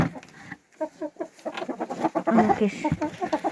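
Chickens cluck steadily in a close, busy chorus of short, choppy calls overlapping one another.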